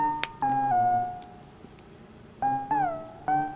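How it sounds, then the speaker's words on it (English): ARP analog synthesizer tones: a few sustained, slightly bending notes with short gaps between them, moderately loud with no talking. "this is the sound of the ARP."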